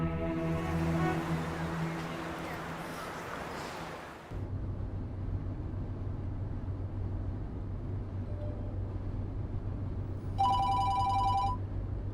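A mobile phone rings with a repeated electronic tone for about a second near the end, over a steady low hum. Earlier there is a loud, muffled passage that cuts off abruptly.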